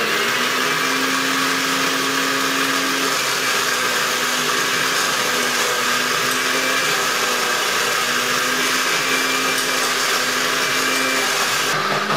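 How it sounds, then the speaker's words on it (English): A cheap blender runs loud and steady while an açaí berry bowl is made, a continuous motor whir with a knife stirred inside, and no voice is heard. "if you have a real ghetto blender like I do, you have to stick a knife in there and stir it around"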